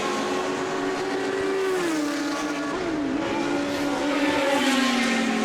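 A historic Formula 1 car, number 007, is driven hard past at a Goodwood Members' Meeting, a high, steady engine wail, moderately distant, with pitch dipping and shifting as it goes by.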